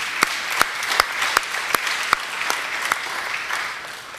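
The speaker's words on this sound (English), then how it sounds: "Let's give a round of applause to the advocates" Audience applause for advocates at a 2011 talk at the Clinton School: a thin, steady patter with distinct sharp claps standing out at a fairly regular rhythm, fading slightly toward the end.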